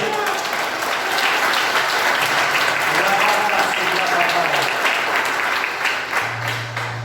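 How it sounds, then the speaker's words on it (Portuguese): Loud, sustained applause from a church audience during a sermon, dense clapping filling the room without pause, with a low hum and some voices faintly underneath. "Aplauda ele."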